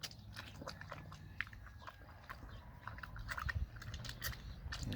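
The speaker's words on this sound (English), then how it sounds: "Nope, back to eating alfalfa." A pig eating alfalfa on a family farm, with close, steady crunchy chewing and biting sounds running throughout at moderate volume, growing slightly louder toward the end.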